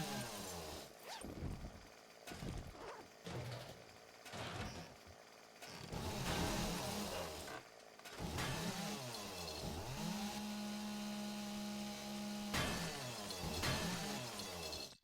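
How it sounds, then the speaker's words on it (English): Chainsaw in the survival game 7 Days to Die cutting through material, a loud, steady motor buzz with breaking and shattering crashes, the engine tone holding and revving across the stretch. "the chainsaw absolutely cuts through just as well, or not better than the auger does"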